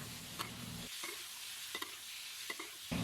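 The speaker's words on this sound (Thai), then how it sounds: "ในขั้นตอนนี้เราจะใช้ไฟกลางในการผัดค่ะ ผัดไปจนกระทั่งเนื้อหมูเนี่ยเริ่มสุก" Pork belly pieces stir-fried with shallots in a pan over medium heat for a Thai shrimp-paste rice dish, with a steady close sizzle and several sharp scrapes of the spatula against the pan.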